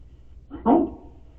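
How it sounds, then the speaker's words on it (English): A single short dog bark indoors, one sharp mid-pitched woof rising out of a quiet room, fairly close and alone. "Okay, we have a dog in here."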